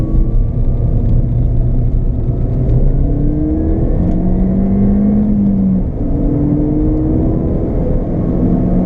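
A Ford Fiesta ST MP215 accelerates hard, its engine a steady, loud rumble with rising revs heard from inside the car, with no talking over it.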